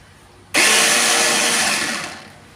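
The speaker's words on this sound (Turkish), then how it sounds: "karabiber bunları böyle ilave ederek rondomdan geçireceğim arkadaşlar" A food processor abruptly starts and grinds a meat mixture seasoned with black pepper, red pepper powder and pepper flakes for tepsi kebabı, a loud steady whirring blend that lasts under two seconds before winding down.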